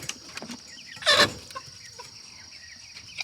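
A rooster lets out a brief, loud squawk up close among scattered soft clucks and rustling, with a steady high hum behind.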